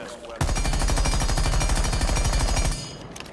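An assault rifle fitted with an extended barrel fires one sustained automatic burst in Rainbow Six Siege, a loud rapid hammering of shots that stops abruptly, leaving a short fading tail.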